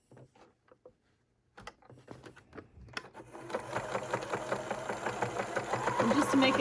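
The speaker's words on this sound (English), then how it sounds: "Then we're going to stitch that down." Sewing machine stitching down the rolled hem of an N95 mask cover, starting with a few short bursts and then running in a steady, rapid, close-up whir that builds louder to the end.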